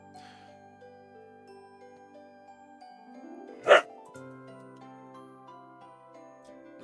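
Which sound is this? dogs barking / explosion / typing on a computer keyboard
dogs barking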